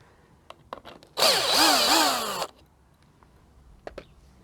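LIDL Parkside cordless impact driver whirring in one loud burst of a bit over a second with rising and falling pitch, framed by faint knocks and clicks before and after.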